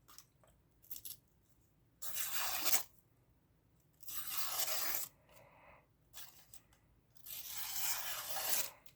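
A freshly sharpened knife slices through thin receipt paper in four close, crisp swishing cuts, each a bright tearing rasp lasting about a second, separated by quiet pauses.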